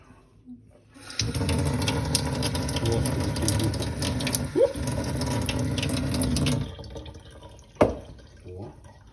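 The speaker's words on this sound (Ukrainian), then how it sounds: "треба вдома мати обов'язково можливість набрати воду прямо з крана" Water runs from a kitchen tap in a home kitchen, a steady broadband rush lasting several seconds before cutting off, with a brief clink near the end.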